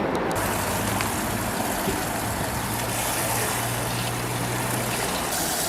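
Water is poured out for street animals during extreme heat, a steady close rushing splash that continues unbroken against a noisy outdoor street background, with no talking.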